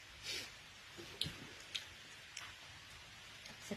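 Soft, steady rain falls in the background, with scattered faint drips and small clicks, no voices.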